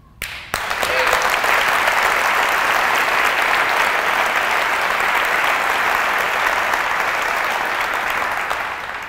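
Loud, sustained applause from a live audience, a dense roar of clapping that begins abruptly after a brief quiet moment and holds steady for several seconds before easing slightly at the end.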